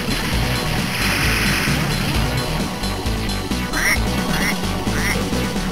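Cartoonish duck quacks ring out in a video game's ghost town level, three short rising calls in quick succession near the end over dense, loud game music and effects.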